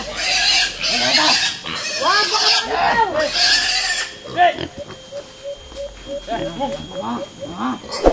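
Harsh pig squeals and grunts come in rapid bursts, loud and close, with people talking over them.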